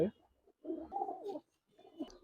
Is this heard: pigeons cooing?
yes